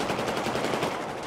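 Gunfire in the video game Battlefield 4 on PS4, Obliteration mode: a short, fairly faint burst of rapid automatic shots in quick succession with no talk over it.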